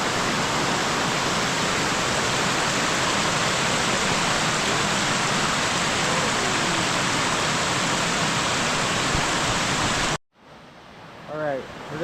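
A waterfall pours out of a cave opening near Decorah, Iowa, a loud, close, steady roar lasting about ten seconds before cutting off abruptly, followed by a brief voice.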